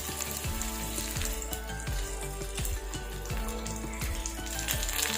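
Green chilli, onion, ginger and garlic frying in hot oil for palak paneer, a steady close sizzle with crackling pops and occasional spoon stirs, no voices.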